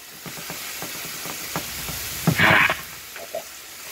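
Ground turkey sizzles in a stir-fry pan, a soft crackle under intermittent scraping and stirring knocks, with one brighter hissing burst in the middle.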